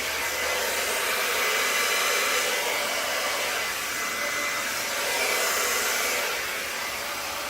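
A steady, loud rush of blowing air, like a hair dryer, blown over wet acrylic paint on a canvas, holds for several seconds with slight swells in strength.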